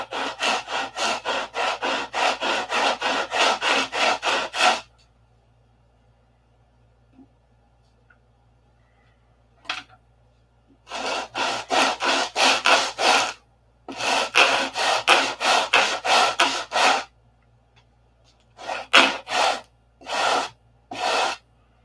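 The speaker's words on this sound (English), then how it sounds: "Now we'll grind it off, make it flat." Abrasive sanding or grinding on a wooden part for a P-47 model aircraft, heard as close, loud bursts of rasping strokes in rapid rhythm, stopping and restarting several times with quiet gaps between.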